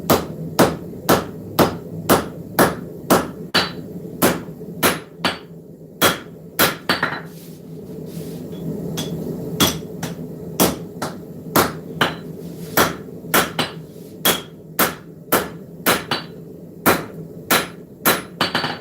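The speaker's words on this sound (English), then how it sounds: "Lay the spine down on the anvil. Start forging that in." Hammer blows forging a blade spine on an anvil in a blacksmith's shop, loud sharp ringing strikes in a steady rhythm, with a short pause in the middle before the regular hammering resumes.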